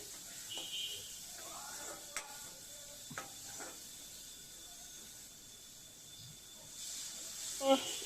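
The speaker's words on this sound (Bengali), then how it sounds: "এভাবে করে মশলাটা খুব ভালো করে কষিয়ে নিতে হবে" Spice paste for a Bengali-style egg bhuna curry is cooked down in a pan with a little water, giving a soft, steady sizzle and hiss broken by a few sharp stirring clicks, fairly faint and close.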